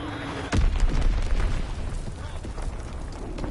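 A single heavy bomb blast strikes in a Call of Duty WWII multiplayer match, a sudden loud boom that rumbles and decays under ongoing battle noise.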